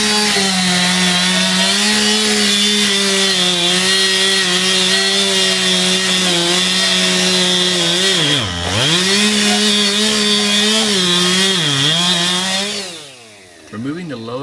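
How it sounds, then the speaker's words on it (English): A firefighter's chainsaw makes a plunge cut through a house wall after the brick is removed. The motor drones loudly and steadily, bogging down in pitch twice as the blade bites, then winds down at the end. "the second firefighter can now begin the traditional plunge cut using a chainsaw"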